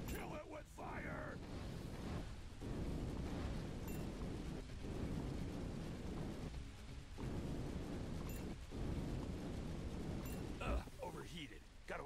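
A video game flamethrower roars in long continuous bursts of rushing noise with brief gaps between them, over a dense fiery wash, with a voice talking at times.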